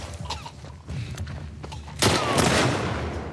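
Gunfire in a shootout in The Last of Us Part II, scattered single shots and thuds early, then a louder burst of rapid fire that carries on to the end.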